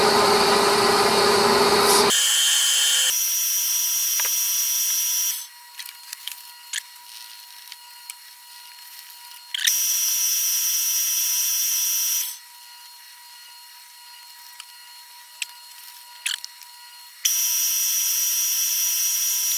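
A power sander rubs down a surface in three loud, whining runs of a few seconds each, separated by quieter gaps with small knocks and clicks.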